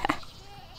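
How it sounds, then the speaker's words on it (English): Goats bleat in the video game WildCraft, a pair of short, close bleats at the very start before a quiet game background with no talk. "We've got 100 goats in here."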